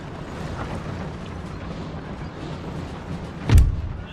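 A single cannon shot from one of three artillery units in the battle game Napoleon: Total War (Darthmod), a heavy boom landing late in the clip over a continuous dull battlefield rumble, with no voices.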